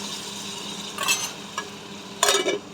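Masala with turmeric and a splash of water sizzling in a pan over a low flame, a steady soft hiss under two louder bursts of stirring and scraping, with no talk.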